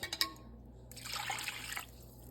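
Beef broth pours into a slow cooker for a crockpot dinner: a few faint clinks, then a short, quiet stream of liquid that lasts about a second before trickling off.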